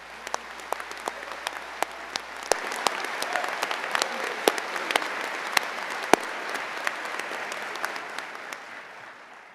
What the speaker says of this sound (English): that deserves a round of applause from us all